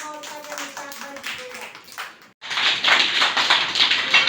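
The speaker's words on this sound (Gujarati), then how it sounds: "તાળી પાડો" A group of preschool children breaks into lively applause in a classroom, and the clapping follows a short stretch of someone talking.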